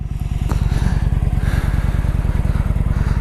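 Kawasaki Vulcan motorcycle engine idling close by, a loud, steady low-pitched lumpy pulse with rapid even firing beats throughout.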